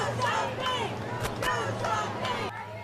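A crowd of nearly 100 people at a memorial for Texas school shooting victims chants in rhythmic repeated bursts, loud and close, several shouted phrases in a row.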